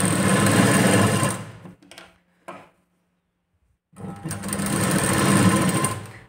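A sewing machine runs a straight seam along the back piece of a blouse, a loud steady motor whir that stops for about two seconds with a couple of brief clicks, then starts again and keeps running.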